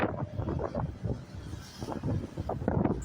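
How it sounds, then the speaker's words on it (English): Wind buffets the microphone in irregular low rumbling gusts by a bridge in London, rising and falling continuously throughout, with no other sounds standing out. "Gusts of wind are blowing."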